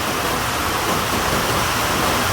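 Heavy rain falls in a continuous, loud, even hiss with no breaks and no voices, close and enveloping all the way through.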